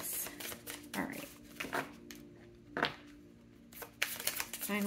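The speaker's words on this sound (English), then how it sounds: "Final shuffle." Tarot cards being shuffled by hand, a brisk riffling and slapping of cards in several short bursts, with faint voice and room noise in the background.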